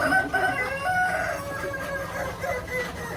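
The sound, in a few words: KUB improved kampung chickens crowing and clucking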